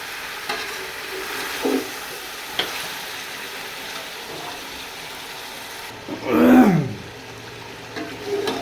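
Chicken frying in a pan with cumin and black pepper, a low crackling sizzle with occasional stirring scrapes and a louder burst of hissing near the end.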